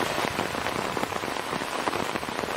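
Steady rain falls on grass and trees outdoors, a dense, even patter of drops that stays constant throughout with no voices.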